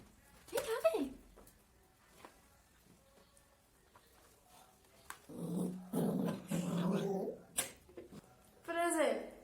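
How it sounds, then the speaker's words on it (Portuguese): A pet dog held indoors growls in short, low rumbling bursts, close by and moderately loud, with someone speaking between and around the growls. "Por exemplo, tem um cachorro."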